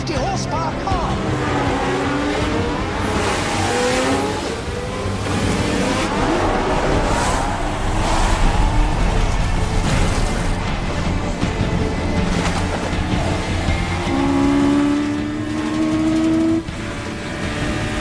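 A 450 horsepower Formula One race car drives in wet conditions, engine roaring and revving continuously with rising and falling pitch, loud throughout and mixed with other engine noise and voices.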